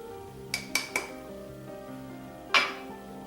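Chicken salad ingredients with mayo, Dijon mustard, chopped red onion and celery are mixed in a bowl, giving a few quick utensil clinks in a row and then one louder knock against the bowl, close and otherwise quiet.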